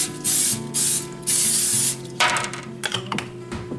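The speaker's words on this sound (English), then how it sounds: "we're just going to spray it with some cooking spray" Cooking spray hisses out of a can into a pan in three short bursts, followed by some clattering and light handling noise nearby.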